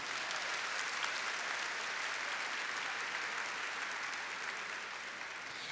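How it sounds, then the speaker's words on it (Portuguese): A congregation at a Portuguese-language church service applauds continuously. The steady, even wash of many clapping hands sounds slightly distant and fades a little toward the end. "Então você aplaudir esse seu irmão que está aí, porque ele também acredita."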